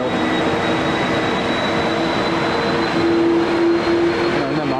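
An Aer Lingus airliner pushes back at Manchester Airport in heavy rain, a continuous loud engine and ground-equipment rumble with a sustained low hum that swells slightly partway through.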